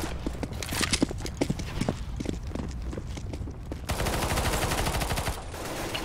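A PP-Bizon submachine gun firing in CS:GO deathmatch on the Cobblestone map, rapid closely spaced shots in bursts, then a denser continuous rattle in the second half, loud and near with little talk.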